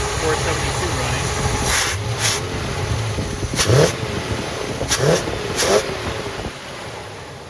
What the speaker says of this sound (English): Sound of a Cadillac 472 running.